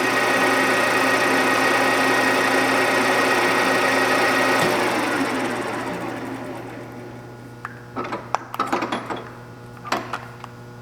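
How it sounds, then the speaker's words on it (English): A Deckel FP2 milling machine runs with both spindles turning, a steady mechanical whir with a constant hum that winds down midway, followed by a few clicks and clunks as it settles. "Both spindles are running. This should be 630 RPM."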